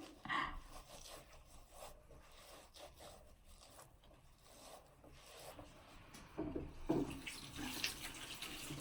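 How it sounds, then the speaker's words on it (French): Tap water runs into a sink while a face is rinsed during a skincare routine, a steady moderate splashing wash that swells louder near the end, with occasional scrapes and no talking. "Allez, je vais encore donc rincer, je pense, une fois ou deux."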